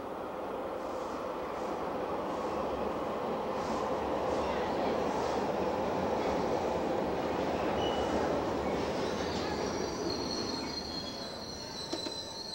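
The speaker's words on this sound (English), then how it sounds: "the day begins and ends with a ride on the subway" A Beijing subway train rumbles steadily along the rails, its wheels letting out high metallic squeals that rise toward the end.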